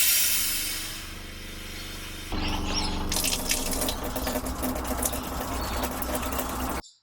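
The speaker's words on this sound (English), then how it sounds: "if I open this valve here, it'll let the water into the filters, the pump will turn back on, and it'll start filling these up with water" Water rushes through a home water system as a valve opens into the filters; a low steady machine tone runs first, then a loud hissing flow of water takes over and continues before cutting off abruptly.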